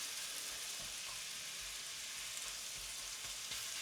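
Onions cooking slowly on low heat in a pan give a soft, steady sizzle and crackle throughout, fairly quiet and with no voices.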